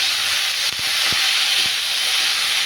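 Potatoes are stirred and fried in a hot pan for a fish-head and jute-greens (note saag) dish. A loud, close, continuous oily hiss fills the clip, with a few soft knocks of the spoon against the pan. No voices.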